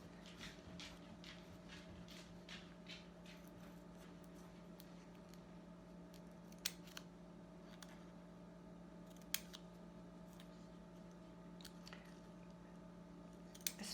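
Scissors are handled during fabric appliqué work, giving faint, scattered snips and small clicks over a low steady background hum, with no talking.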